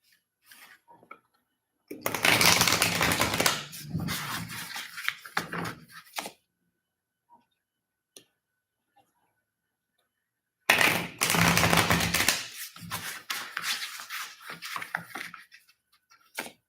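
Tarot cards being shuffled by hand in two long bursts of dense papery riffling and rubbing, close and fairly quiet, separated by a few seconds of near silence with faint taps.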